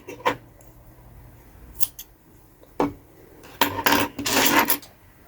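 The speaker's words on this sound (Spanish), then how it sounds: "Ahora cortamos acá la hebra que nos sobra." Scissors snip leftover crochet yarn on a small Rapunzel flower piece, making several close, sharp metallic cuts spaced irregularly, with a quick cluster of snips near the end and quiet between them.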